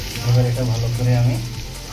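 Food frying with turmeric, salt and cumin in a pan, a loud close sizzle broken by a few stirring scrapes.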